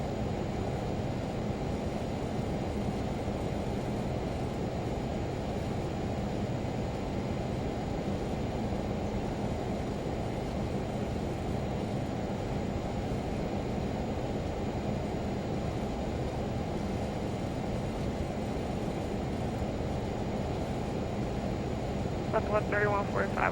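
A Learjet 35A taxis at idle in a flight simulator game, giving a steady, continuous engine drone with no talking over it.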